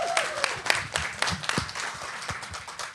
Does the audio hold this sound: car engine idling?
no